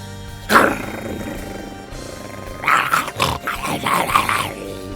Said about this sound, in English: Mamy tutaj Cerbera, jakiś dwugłowy piesek